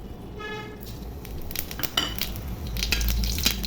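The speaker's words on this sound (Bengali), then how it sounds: "তেল গরম হয়ে গেছে একটা সময় মরিচ ফোড়ানো দিব আর তেজপাতা দিব ভেজে নিব" Chillies and bay leaves frying in hot oil for a mixed vegetable dish, with a steady close sizzle under scraping stirs and metal pan clinks, heavier toward the end; no talking.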